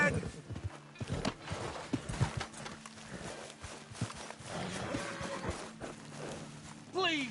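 Horse hooves clip-clop steadily at a walk on a trail in the video game Red Dead Redemption 2. Closer hoofbeats mix with snorts and creaking tack, and someone speaks over them.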